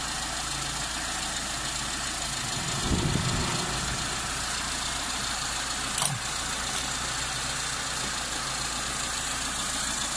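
A Mitsubishi 4G13 engine with a piston-type carburetor idles steadily at about 830 rpm, a constant low hum close by, broken by a brief knock midway.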